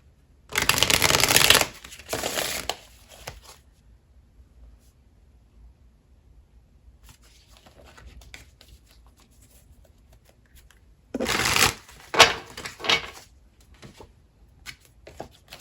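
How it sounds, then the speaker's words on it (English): Tarot cards being shuffled up close in two separate bursts of loud riffling and rustling, the first a long flurry, the second choppier, with quiet handling noises between and no talking. "Let's pull your tarot cards out."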